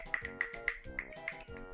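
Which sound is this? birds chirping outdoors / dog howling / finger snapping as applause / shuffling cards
finger snapping as applause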